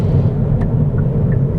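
Hyundai i30 Fastback N-Line X driving on the road, a steady low engine and road rumble heard from inside the cabin, continuous and fairly loud with no talk.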